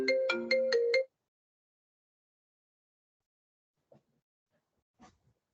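A mobile phone ringtone sounds a short burst of bright melodic electronic notes for about a second, then cuts off abruptly, leaving near silence with a couple of faint distant knocks.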